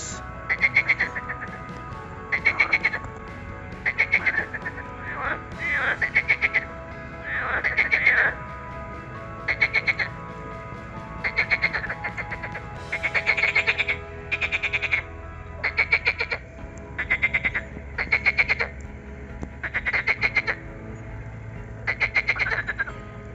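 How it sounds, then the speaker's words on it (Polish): Frogs croak at night in May in repeated rhythmic bursts, a loud chorus of rattling calls pulsing every second or so, with faint background noise between. "Słyszycie to rechotanie?"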